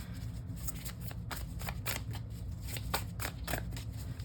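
Tarot cards shuffled by hand during a reading, a steady run of crisp riffling flicks and soft slaps repeating close up with no talk.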